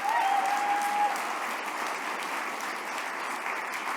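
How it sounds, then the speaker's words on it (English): Audience applause at an Indigenous-led clean energy gathering, a steady wash of many hands clapping that starts loud and settles into a sustained, slightly fading roar. A brief whistle-like tone rises near the start. "So give yourselves another giant round of applause"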